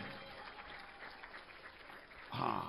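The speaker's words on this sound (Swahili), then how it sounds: "Tumpe makofi mengi na vigelegele." Applause and ululation from an audience at a formal public gathering, rising into a louder burst of cheering near the end.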